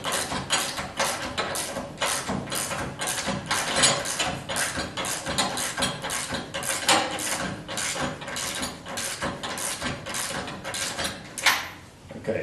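Gear wrench ratcheting on bolts while fitting the upper control arm on a 1976 Corvette restomod, a steady run of quick mechanical clicks and metallic rattles close by, continuous with brief pauses and no talk.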